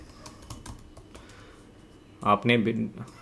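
A computer keyboard clicks as a domain name is typed, with a few light taps followed by a short, louder burst of keystrokes, under someone speaking.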